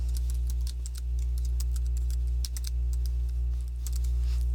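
Quick bursts of keystrokes on a Mac computer keyboard, close and crisp, arriving in irregular clusters with short pauses over a constant low electrical hum, no talking.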